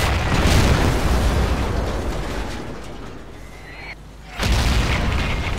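A tank cannon shell fires in World of Tanks, booming loudly near the start, then the blast rumble fades before another loud burst near the end.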